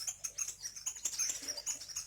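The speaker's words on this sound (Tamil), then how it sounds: "சிட்டுக்குருவி அழகான சத்தங்கள் கேட்குது" House sparrows chirping in a farmyard alongside goats and a calf, with quick, repeated bright chirps overlapping in a busy, moderately near chatter throughout.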